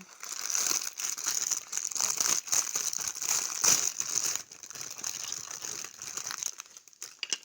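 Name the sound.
opening crinkly packaging of LEGO soldier figures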